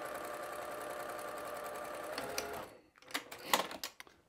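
Sewing machine stitching a batik quilt block, a steady close mechanical whir for a couple of seconds, then stopping, followed by a few brief clicks and handling sounds as the thread is cut and the work turned.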